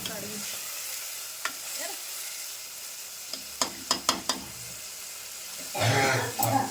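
Tomatoes fry in a pan, a soft steady sizzle broken by a few sharp stirring clicks and scrapes, followed by a louder surge of hissing as more goes into the pan.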